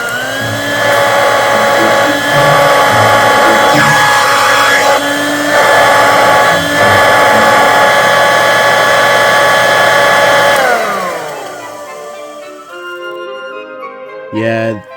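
A Dirt Devil hand vacuum with dry-sounding bearings runs at second speed, giving a loud, steady motor whine with a bright high tone. Near the end it switches off and winds down with an uneven, falling whir.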